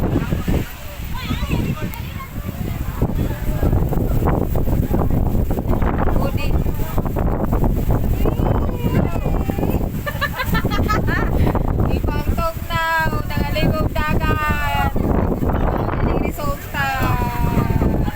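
Strong sea wind buffets the microphone in a steady, loud roar, mixed with water sloshing near the shore, while voices talk and shout throughout.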